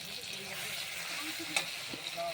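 Onions and tomatoes fry in a pan with a steady soft sizzle and occasional stirring scrapes, staying close and even throughout.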